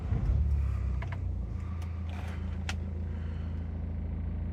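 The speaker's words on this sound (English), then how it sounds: "I will just start the vehicle so you can see there are no warning lights." A 2011 BMW 320d M Sport E93 Cabriolet diesel starts up, a short cranking burst settling into a steady low idle rumble, with a few faint clicks from inside the cabin.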